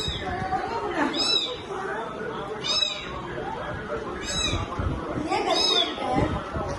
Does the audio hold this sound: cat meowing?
yes